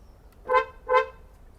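A Hyundai Creta's horn gives two short, bright chirps about half a second apart as the car is unlocked with its remote key, clear and close in a quiet parking spot.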